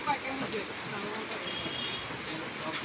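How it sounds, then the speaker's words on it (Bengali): Steady rain falls in a continuous, even wash of hiss and soft patter with scattered drop impacts, moderately quiet and unbroken throughout, with no voices or other sounds over it. "নিরিবিলি বৃষ্টি হইতেছে"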